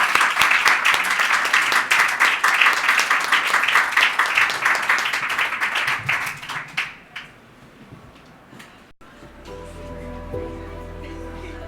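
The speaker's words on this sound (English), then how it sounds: "let's give another round of applause to our speakers for sharing with us today" A crowd applauds the speakers at a COP 25 polar oceans session in the Cryosphere Pavilion, dense clapping that fades out after about seven seconds, then a click and a low electronic tone.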